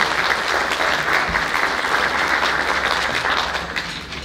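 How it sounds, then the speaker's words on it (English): A school audience claps for a Year 6 band after their concert piece. The applause is full and steady throughout and tapers slightly at the end. "Let's give them another round of applause."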